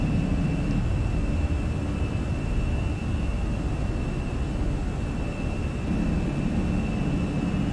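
Airbus A321 jet engines in the Prepar3D flight simulator during takeoff climb, giving a steady, loud broadband roar with a faint high whine that holds evenly throughout, with no voices.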